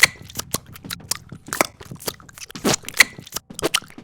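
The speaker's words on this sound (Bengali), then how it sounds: "পাশে যদি কেউ গদ গদ পত পত করে খায় তাহলে আমার বিরক্ত লাগে।" Someone nearby eats noisily, with a quick irregular stream of crunching, smacking bites and chewing clicks, close and fairly loud with no talk.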